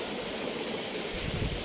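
A stream at a private beach resort flows with a steady, close rushing and burbling wash that carries on evenly with no voices over it.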